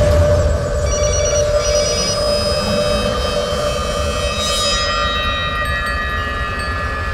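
A telephone rings on and on with a steady electronic tone over a low background hum, and no one picks up.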